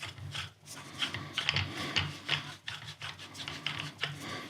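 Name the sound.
screwing a threaded fitting onto an airgun barrel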